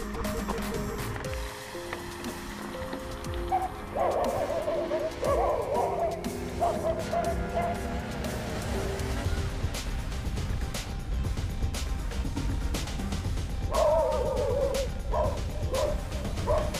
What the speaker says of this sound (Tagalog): So, subukan kong dadaan dyan sa may mga aso.